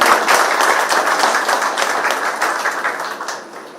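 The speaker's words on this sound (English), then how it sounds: "Can we have a big round of applause for Dr. Gogoi?" A round of applause for a speaker at an art critique workshop in Dimapur, steady crowd clapping from the start that slowly fades toward the end.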